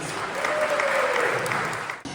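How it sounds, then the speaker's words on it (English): An audience at a Newburyport community history event gives itself a brief, full round of applause, a thick, even wash of clapping lasting about two seconds before cutting off. "So give yourself a round of applause."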